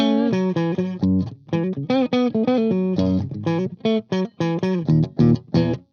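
Gibson SG electric guitar played on a clean tone through its other humbucker pickup, a warm, muffled sound with little high end; a fairly loud, close run of picked notes and chords with short gaps between phrases.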